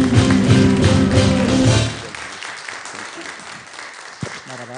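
A studio audience applauds a folk singer, dense clapping that is loud at first and then drops off sharply into softer scattered claps and background murmur, with a single thump near the end.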